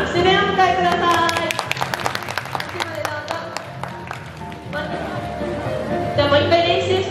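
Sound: audience applauding at dolphin show

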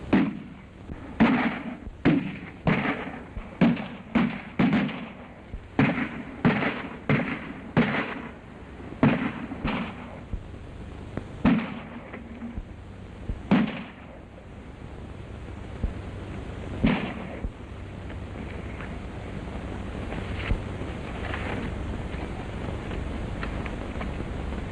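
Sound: gunfire in a 1932 western film

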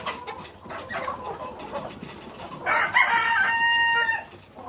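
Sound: chickens, rooster crowing in a poultry shed

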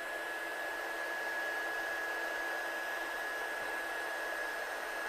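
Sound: heat tool heat-setting embossing powder on a card

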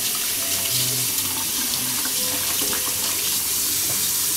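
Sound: rinsing a metal toaster part under running water

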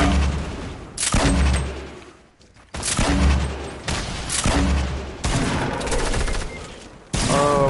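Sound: gunfire in Fortnite video game

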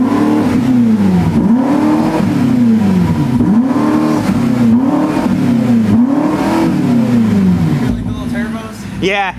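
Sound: car engine revving with active exhaust

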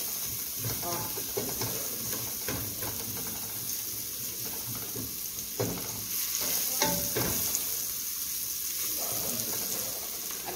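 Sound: onion sautéing and being stirred in a pan

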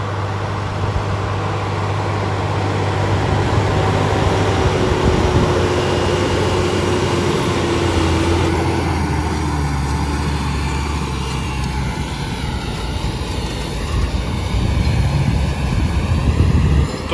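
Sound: tractor seeder turbine blowing

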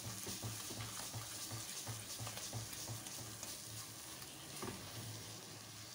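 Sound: carrot halwa being roasted and stirred in a pan

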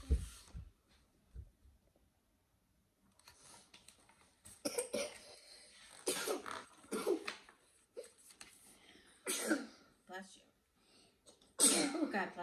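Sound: sneeze

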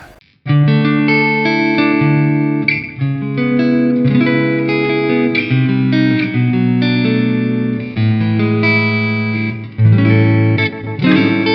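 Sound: electric guitar, single-coil pickup, with reverb and delay

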